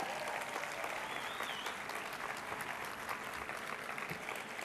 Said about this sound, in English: Come on, we can clap louder than that.